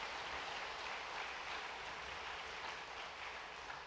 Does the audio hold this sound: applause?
yes